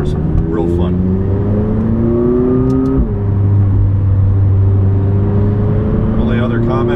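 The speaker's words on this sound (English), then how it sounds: "The sound without the Sport exhaust is really not too enticing" McLaren 570S without the Sport exhaust driving out toward the Ortega Highway, its engine a loud, steady drone from inside the car that rises in pitch, briefly drops with a gear change near the middle, then climbs again.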